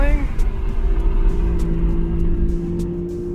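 Aston Martin Vanquish grand tourer cruising with a steady low engine drone and tyre-road rumble inside the cabin, a brief rev change at the start, while someone talks over it.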